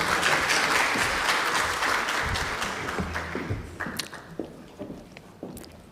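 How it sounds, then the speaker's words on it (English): A live audience at an African Liberation Day event breaks into loud, sustained applause, dense clapping that slowly thins out into scattered claps near the end. "Please, a round of applause as they join me."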